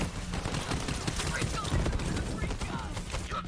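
Gunfire in the video game Borderlands 3 during a fight against COV zealots, rapid crackling bursts packed into a dense, steady barrage with a voice faintly beneath.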